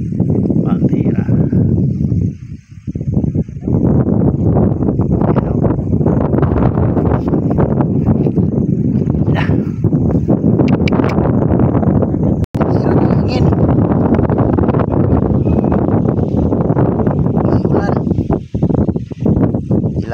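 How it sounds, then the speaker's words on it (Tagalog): Strong wind buffets the microphone nearly nonstop in a loud, roaring wash while heavy rain pours down outdoors near the water, with voices talking underneath. "Bumaliktad yung hangin, mga kamix. Malakas yung ulan, no?"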